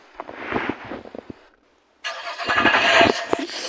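A classic car engine cranks with a raspy churning, goes quiet for a moment, then catches and roars into a steady, loud run nearby.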